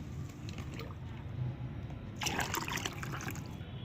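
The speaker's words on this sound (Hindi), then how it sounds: "अब इसमें आपको डाल देना है लगभग 1 लीटर पानी।" About a litre of water is poured into a mixture of mustard cake and neem cake, heard as a faint trickle followed by a brief, brighter splashing pour.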